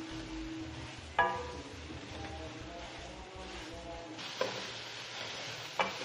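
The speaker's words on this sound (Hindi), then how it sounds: "खुले में ही इसको हम कुछ देर के लिए फ्राई करेंगे" Potatoes and aubergine frying uncovered in a pan, with a soft continuous sizzle, faint stirring and a few brief clinks, quiet and close.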